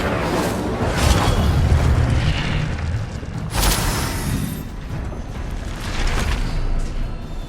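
Incendio fire spell cast in the Hogwarts Legacy video game, a loud booming whoosh of flame bursts over a rumbling game soundscape, several swells across the clip.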